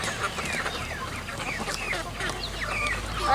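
Hens in a coop holding a mixed flock that includes Rhode Island Reds cluck and chatter continuously, several birds close by with overlapping calls over a steady background.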